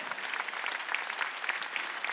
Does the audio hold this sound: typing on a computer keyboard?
no